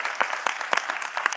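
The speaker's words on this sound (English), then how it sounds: "clap hands" Conference audience gives a brief, scattered round of applause after a speaker, with a few separate claps standing out against a softer wash of hands.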